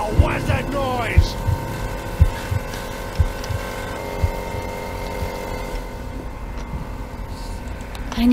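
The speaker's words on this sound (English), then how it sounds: "turned on the air compressor" Steady mechanical hum with a low throbbing pulse from an air compressor switched on inside a game level in Metel, running continuously with periodic thumps and light movement noises.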